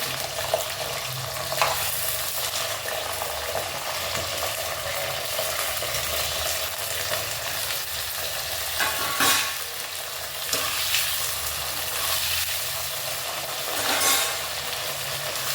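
Ivy gourd frying in hot oil in a pan on a stove, a steady loud sizzle with occasional stirring scrapes and louder bursts, no talking.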